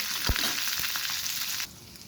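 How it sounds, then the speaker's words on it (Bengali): Onion and green chilies fry in oil with a bright, steady sizzle and a couple of low knocks from stirring, before the hiss cuts away sharply near the end. "এদিকে তেল দিয়ে দিয়েছি পেঁয়াজ কাঁচামরিচ দিয়ে দিলাম এগুলো ভেজে নিচ্ছি খুব ভালো করে"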